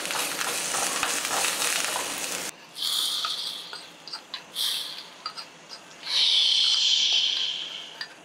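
Curry leaves and chopped coriander sizzle and crackle in hot oil while being stirred, with loud bursts of spitting between quieter stretches, close up and with no voices.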